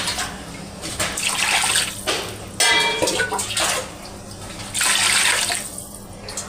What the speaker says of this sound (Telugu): 4 చెంబులు నీళ్ళు వేస్తాం.